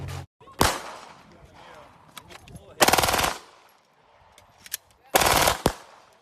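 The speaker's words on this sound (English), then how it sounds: "First time shooting here with this gun." Three loud, sharp gunshots ring out at a shooting range, evenly spaced about two seconds apart, each with a short echoing tail, with faint talk between them.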